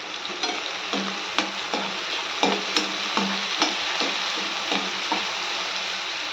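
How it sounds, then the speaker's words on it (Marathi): Onion and tomato sautéing together in a pan for methi chana masala: a continuous sizzle punctuated by a steady rhythm of spatula scrapes and taps, close up and with no voices. "हा टोमॅटो पण आपल्याला कांद्यासोबत छान असा मऊ होईपर्यंत परतून घ्यायचा आहे"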